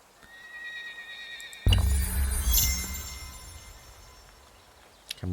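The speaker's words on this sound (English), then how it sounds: "Can we hunt the horses?" Horses in the PC strategy game Humankind let out a loud, close whinny that starts abruptly and slowly fades, with faint hoof clip-clop and a short sharp knock near the end.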